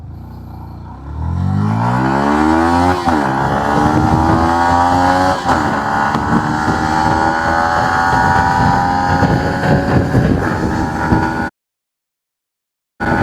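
A 150cc sports motorcycle accelerates hard from a standstill in a 0-100 test, its loud engine climbing through several gear changes with wind noise until the sound cuts off abruptly.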